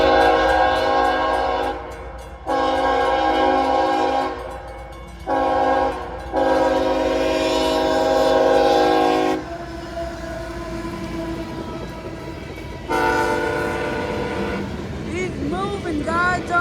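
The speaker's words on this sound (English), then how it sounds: "326 super late train for some reason." A 71-car freight train rolls past with its horn sounding in several long, loud blasts over a continuous rumble of wheels on rails, the horn calls separated by short gaps.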